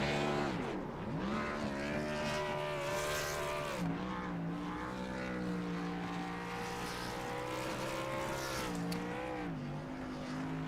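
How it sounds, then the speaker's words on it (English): A stock car engine in the iRacing Xfinity Series race at Homestead revs hard and continuously, its pitch rising and falling in sweeps during a championship burnout, loud and close throughout. "we'll definitely see some burning rubber from Caleb Sisk as he collects the"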